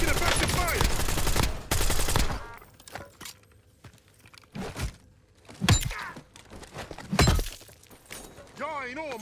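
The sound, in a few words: gunfire in a video game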